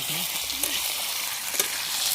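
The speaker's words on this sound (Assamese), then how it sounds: "এয়া মাংস লাৰি আছোঁ" Meat stirred and frying in a large kadai outdoors in an open field, a steady hiss of sizzling with occasional scraping stirs, close and continuous throughout.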